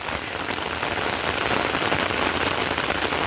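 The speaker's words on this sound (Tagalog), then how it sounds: "Lumakas na ang ulan." Heavy rain pours steadily outdoors in a botanical orchid garden in Singapore, a dense, even hiss of drops drumming on surfaces that stays loud and close throughout with no talking.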